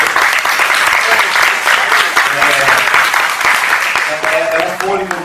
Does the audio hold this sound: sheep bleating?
no